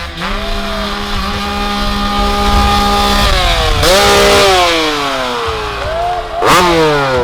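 A two-stroke KTM 300 off-road motorcycle at a pro-class off-road championship race screams nearby, its high rasping engine rising and falling through gear shifts, with other bikes revving behind it.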